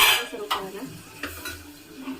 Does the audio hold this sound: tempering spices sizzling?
yes